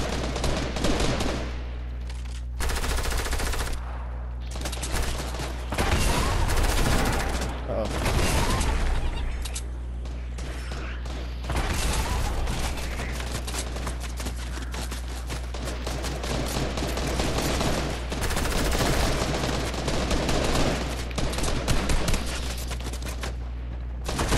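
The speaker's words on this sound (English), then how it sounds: "you're getting shot from people over here" Sustained video game battle gunfire, with rapid automatic bursts and repeated shots, runs continuously and loud throughout, mixed with game effects and occasional booms, while players talk excitedly over it.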